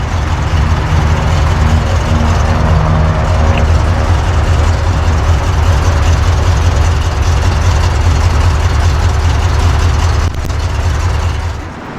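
A stock 350 V8 in a 1986 Chevrolet Monte Carlo SS idles with a loud, steady, deep rumble that runs unbroken for about ten seconds before easing slightly lower near the end.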